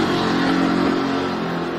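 A 1967 Chevelle drag car at a Sick Summer drag racing event, its engine roaring steadily and loudly throughout with a dense, continuous rumble and no talk.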